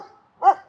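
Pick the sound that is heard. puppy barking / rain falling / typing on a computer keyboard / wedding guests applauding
puppy barking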